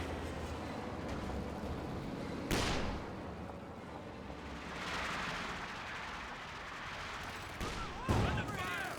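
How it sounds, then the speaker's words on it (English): Artillery barrages in the World War II strategy game Company of Heroes 2, with two sharp, loud blasts standing out over a constant din of battle and gunfire, while a voice talks over the action. "More artillery barrages there."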